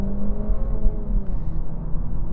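A 2024 Acura Integra Type S accelerating, its engine note climbing steadily as it revs, loud and close throughout with no talking over it.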